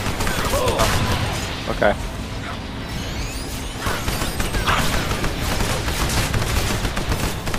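Gunfire from turrets hidden behind a wall in a shooter video game, as dense bursts of shots and mechanical clatter run continuously, with a voice speaking briefly over the fighting.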